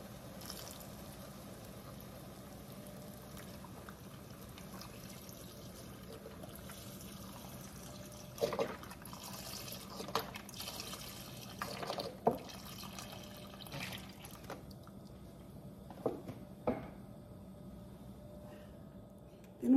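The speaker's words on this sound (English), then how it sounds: "So now we're going to add our beef stock." Beef stock is poured into a pot of cooked chicken with onions, garlic and smoked paprika. It makes a quiet, intermittent trickle with scattered drips and small splashes, faint and close, without any talking.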